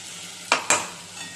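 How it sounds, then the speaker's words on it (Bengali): Water from a spice-washing bowl hits frying spice paste for a bata fish curry with poppy seed and mustard, giving two sharp, loud sizzling bursts a moment apart, then a steady frying hiss. "এই মশলা ধোয়া বাটিটার জলটা দিয়ে দিই।"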